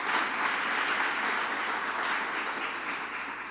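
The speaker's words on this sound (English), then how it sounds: "So let's give a round of applause for that." Audience applause at a White House convening with cabinet secretaries, a soft, steady, even wash of many hands clapping at a distance, holding constant throughout and easing slightly at the end.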